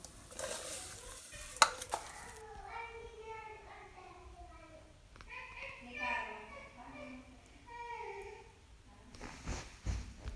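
Vermicelli roasts in a pan for semiya payasam, with a light sizzle and repeated scraping stirs, heard close under ongoing speech and louder clatter near the start and end.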